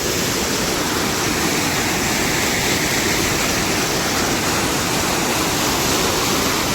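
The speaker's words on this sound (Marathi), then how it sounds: "हे बघा तळ्याच्या तोंडात तर इतकं पाणी चाललंय" Floodwater from heavy monsoon rain rushing through a pond outlet near soybean fields, a loud, dense, unbroken roar of churning water heard up close with no voices.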